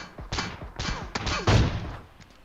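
Gunfire in a shooter video game, several sharp close shots and bursts in quick succession, with one heavier blast near the middle before things fade down.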